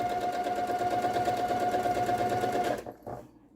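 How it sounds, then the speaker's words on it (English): A sewing machine stitches straight down a quilt seam, a fast, even mechanical whir with a steady motor hum, close and loud, stopping abruptly near the end with a few faint clicks. "So I will put it over here under our foot and stitch that right all the way down"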